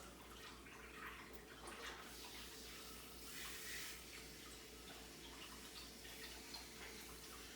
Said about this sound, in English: You can just pour it into the basin.